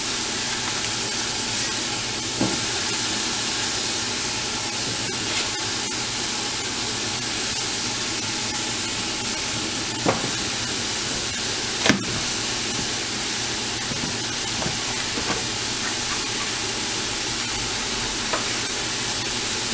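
One pound of ground hamburger frying in a pot for chili, a steady broadband sizzle and hiss with a few faint clicks of a utensil, continuous and close.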